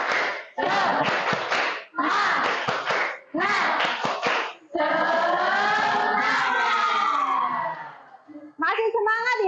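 A group performs the Indonesian "tepuk semangat" spirit clap during a group presentation session: several bursts of rapid rhythmic clapping separated by short pauses, followed by a sustained unison group shout and a final quick clap pattern.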